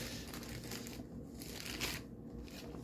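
A toy figure pulled from a crinkling plastic bag, giving a steady, close rustle of crumpling plastic with brief louder crackles, no voices.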